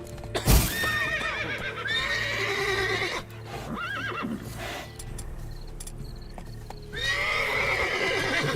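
In The Witcher 3: Blood and Wine, a horse whinnies loudly near the start, followed by more neighs and snorts over a steady rhythmic clip-clop of hooves, with a final whinny at the end.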